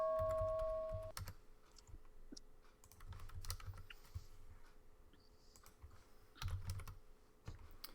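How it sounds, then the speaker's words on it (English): Typing on a computer keyboard comes in clustered bursts of soft clicks with short pauses between, close by, after a brief fading bell tone. "my keyboard strokes are too loud"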